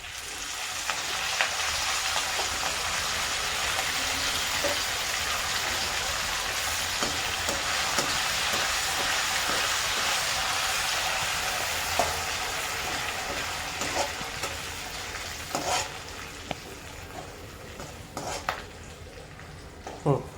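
Curry leaves crackle and sizzle in hot oil for a chivda tempering, producing a steady, dense frying hiss that runs for about twenty seconds, with occasional faint clinks of a spoon or pan.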